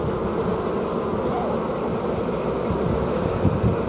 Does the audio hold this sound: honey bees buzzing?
yes